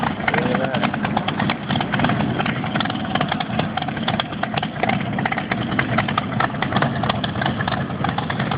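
A Boss Hoss motorcycle engine runs continuously at close range during a Bike Week burnout, a loud, dense, steady rumble with no break across the whole stretch and no talking over it.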